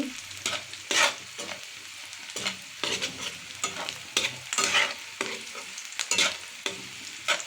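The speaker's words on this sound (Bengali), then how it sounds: "প্যানে আমি পেঁয়াজগুলো ভাজা ভাজা করে নিচ্ছি" Onions sizzle in oil in a pan for a tilapia and green banana curry, with repeated scraping strokes of a spatula every half second or so, close and clear, no talking.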